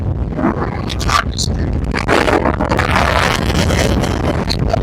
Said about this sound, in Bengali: আমি একবারে কাছে আসছি, দেখাই আপনাদের যে কি তুফান